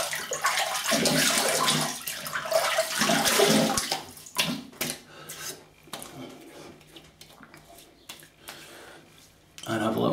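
Razor rinsed under a running tap during a shave, a loud close rush of water with rubbing and splashing, then quieter clicks and taps before the water returns.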